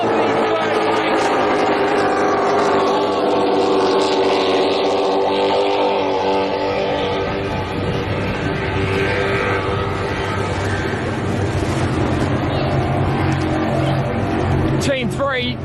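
Racing powerboats roar along the Manning River during a heat race, a continuous loud engine drone with rising revs, with a commentator talking over it.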